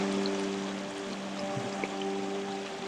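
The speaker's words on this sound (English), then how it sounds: "That's a lot of water to make disappear." Water rushes and drains steadily into the ground at Funnel Lake in the Sierra, a continuous close wash of flowing water with a faint low hum beneath it and no voices.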